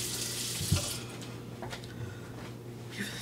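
A kitchen tap runs steadily into a sink while hands are rinsed under it, a faint continuous hiss of water broken by a few soft splashes, with no voices.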